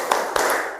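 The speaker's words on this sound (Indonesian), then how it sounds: "Kita tepuk dulu, bertepuk dulu." A class of school pupils clapping together, a short burst with two sharp claps standing out over a dense, noisy room.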